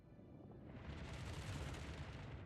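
A torpedo strike explodes in World of Warships, a deep, loud rumbling boom that swells after a quiet start and rolls on through the rest of the moment.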